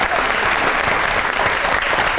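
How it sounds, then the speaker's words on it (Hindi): Steady applause from a large television studio audience, dense and continuous throughout, with no voices standing out. "इस पे तालियां होनी चाहिए।"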